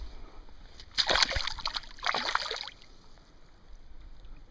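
A bass released back into clear lake water makes two short splashy sloshes close by, followed by quieter ambient water.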